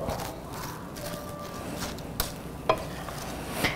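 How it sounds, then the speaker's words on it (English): French onion soup broth being stirred in a pot, a soft continuous scraping and swishing with faint bubbling, quiet and close, with a few light knocks of the spoon against the pot. "Give it a good stir."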